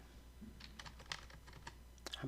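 Typing on a computer keyboard while entering a spreadsheet formula, a quick run of light clicking keystrokes, close and fairly quiet, with faint talk underneath.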